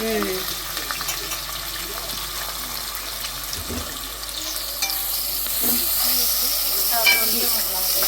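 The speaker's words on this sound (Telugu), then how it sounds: "ఈ ఆనియన్స్ చక్కగా మగ్గించుకోవాలి, చక్కగా ఎర్రగా దూరగా వేయించుకోవాలి" Onions fry in hot oil with a constant soft sizzle and occasional stirring scrapes, joined near the end by running water and faint background voices.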